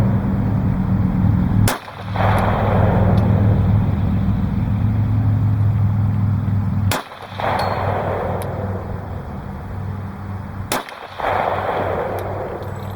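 Three loud sharp reports from CCI Blazer 230 grain .45 ACP rounds fired over a chronograph radar, spaced several seconds apart, each cutting through a steady rumbling outdoor background.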